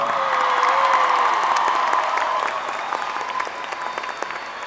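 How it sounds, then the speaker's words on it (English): A large crowd applauds and cheers for a graduating class at a college commencement ceremony, with whoops and voices rising over dense clapping that gradually tapers off. "Let's give them another round of applause."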